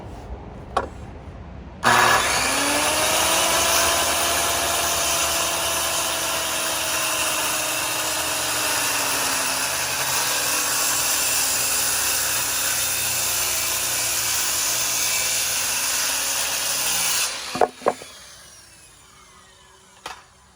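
A power saw starts with a sharp surge and then cuts a camper countertop to length, whining steadily and loudly for about fifteen seconds before spinning down, followed by a few clacks.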